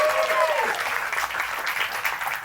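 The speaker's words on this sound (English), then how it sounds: "Round of applause for your service staff tonight" A comedy club audience at the Roosevelt Hotel claps for the service staff, dense steady applause filling the room, loud and sustained, with a voice briefly heard over the start.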